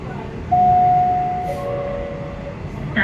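Interior of an Indonesian-built KRL INKA CLI.22 commuter train running near Jakarta, a steady rumbling cabin hum with a thin whining motor tone and a faint chime near the end.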